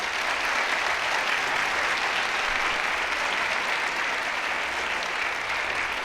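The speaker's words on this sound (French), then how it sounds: "Applaudissons nos invités d'honneur." Steady applause from a large audience at a university graduation ceremony, dense and even throughout with no letup.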